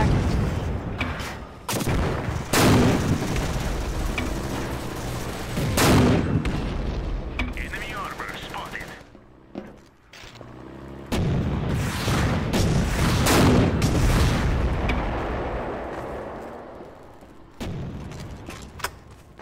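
Heavy gunfire and booming cannon blasts from armored APCs attacking a barracks in the Empires Source mod game, repeated loud bursts and impacts with a brief lull midway, under occasional talk.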